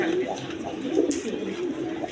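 Indian Bombay pigeons coo in low, throaty repeated calls close by, continuous over a soft background murmur.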